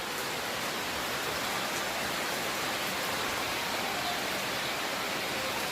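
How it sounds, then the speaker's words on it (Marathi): Heavy rain falls in a dense, steady roar of hiss that stays loud and even throughout, with no voices over it. "ते बघा आता तो वाढलाय पाऊस."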